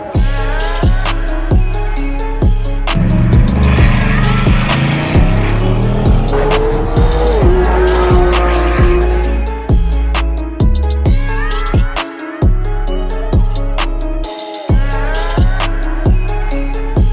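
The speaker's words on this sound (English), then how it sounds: "you get to see these cars on the move and at speed" Loud, throbbing supercar engine roar with rising and falling pitch as the car accelerates and passes on a runway, the noise sustained and close throughout.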